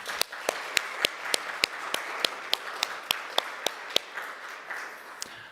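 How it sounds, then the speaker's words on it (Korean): A church congregation claps together at a Christmas Eve service honoring Jesus, the sharp claps landing in a steady, even beat over a softer wash of scattered clapping, moderately loud and fading toward the end. "우리 큰 박수로 영광을 돌리겠습니다"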